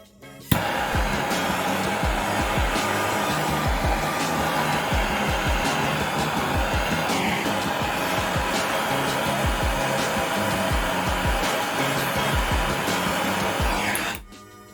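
A brazing torch blows a steady, loud roaring hiss of flame across a fixture table joint, starting with a sharp ignition pop and running unbroken for about fourteen seconds before cutting off abruptly.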